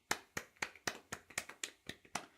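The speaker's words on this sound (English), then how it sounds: "Little round of applause." A small golf clap: about ten light, evenly spaced hand claps from a single nearby person, quiet and brief.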